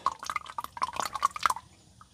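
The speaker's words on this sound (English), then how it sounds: "Once you loosen it, just let it drip." Engine oil drips from the loosened drain plug of a 2015 Honda Pilot during an oil change, a quick, close run of small liquid drips and splashes that trails off into quiet.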